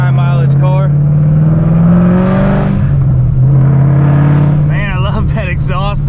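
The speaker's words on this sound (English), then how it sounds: "Man, I love that exhaust though. It sounds so amazing." A Ford Mustang GT's loud, high-mileage V8 exhaust revs with a deep, steady rumble that swells and falls, while voices talk over it.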